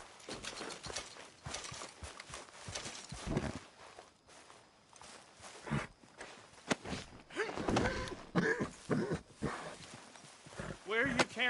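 Horse hooves clip-clop in the Red Dead video game, with irregular thuds and steps heard under frequent loud, agitated talking.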